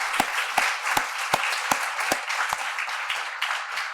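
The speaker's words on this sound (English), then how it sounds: "Let's have another round of applause and thanks for John and Abdulaziz." Audience applause at a legal services forum in Minneapolis, a dense steady patter with a strong, evenly spaced clap rhythm cutting through near the microphone.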